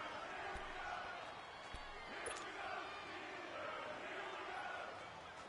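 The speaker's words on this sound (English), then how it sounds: "the crowd getting into it as we come up on a big 3rd down" Steady stadium crowd roar in the Madden NFL 19 football video game ahead of a big third down, a dense continuous wash of cheering and noise that swells slightly throughout.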